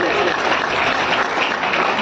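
Audience members at a community program in Sarai Akil, Kaushambi clap loudly for the children, a brief, steady burst of many hands with some voices blended in.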